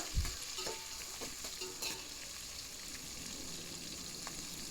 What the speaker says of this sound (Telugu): అల్లం వెల్లుల్లి పేస్ట్ పచ్చివాసన పోయేంత వరకు ఫ్రై చేసుకొని